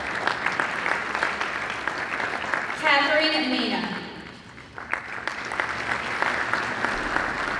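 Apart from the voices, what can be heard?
audience applause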